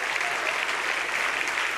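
An audience at a university science-communication contest final applauds in a steady, dense wash of clapping, even in level and fairly loud throughout.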